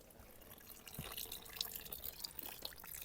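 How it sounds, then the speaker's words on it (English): Quiet trickle and drip of rainwater falling into a bucket, soft and continuous with a few brighter drops. "The water is dropping right in the middle."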